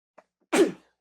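A person sneezes once, close and sharp, after a faint quick intake of breath, with nothing else heard.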